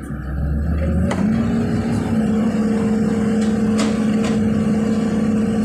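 Hitachi 210-5G excavator diesel engine held at over 2000 RPM in power mode, a steady loud drone with a constant tonal whine, a brief low rumble at the start and faint clicks over the top.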